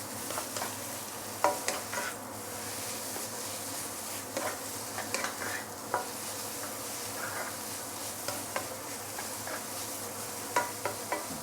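Noodles with roast pork stir-fry in a hot pan with a steady, close sizzle. Scattered light scraping and tapping from stirring sound throughout, with no talking.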